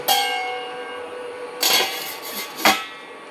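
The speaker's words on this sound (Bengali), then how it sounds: "এবার আমি ঢাকা দিয়ে দিচ্ছি খানিকক্ষণের জন্য" A metal lid goes onto a cooking pot with bright ringing clanks, one at the start and two more sharp contacts later, each leaving a short metallic ring in an otherwise quiet kitchen.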